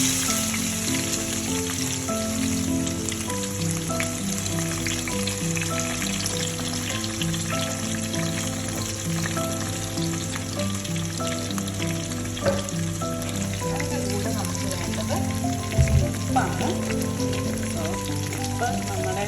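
Ginger and garlic fried in a pan for homemade lemon pickle, a steady dense sizzle like rain, under a continuous tonal hum with a brief clink near the end, close with no talk.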